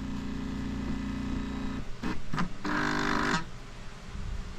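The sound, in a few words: faulty printer scanner motor straining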